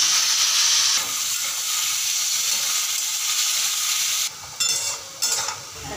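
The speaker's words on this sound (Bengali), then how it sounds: "সাদা তেল গরম হয়েছে, এখন আলুটা ছেড়ে দিই।" Potato pieces sizzling in hot white oil, with a loud, steady frying hiss throughout and brief dips and surges in the bubbling near the end.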